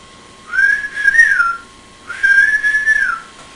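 A person whistles two sustained rising-and-falling tones in imitation of a signal whistle, each about a second long, clear and close with a short gap between them.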